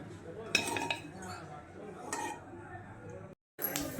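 Several sharp metallic clinks of utensils against a karahi as fried cashews are lifted out of ghee, spaced apart, with quiet kitchen noise and a brief silence near the end.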